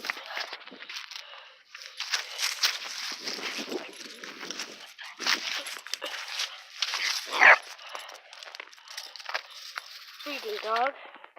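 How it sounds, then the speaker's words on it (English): A dog yelps and whimpers close by in rapid, agitated bursts, mixed with scuffling and clattering, and a person speaks over part of it. "Freaking dog."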